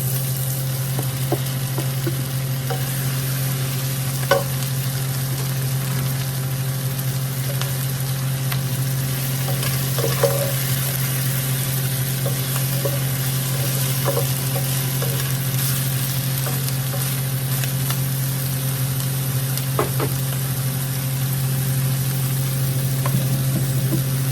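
Tofu frying in a pan, a loud continuous sizzle with occasional scraping clicks from stirring, close up and steady for the whole stretch with no talking.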